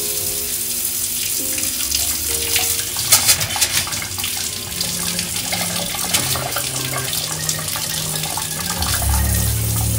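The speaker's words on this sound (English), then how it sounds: "There goes the pump." A water pump starts up in a skoolie bus kitchen when the tap is opened on a system pressurized to 40 psi, its low steady hum running under rushing faucet water with brief splashy bursts.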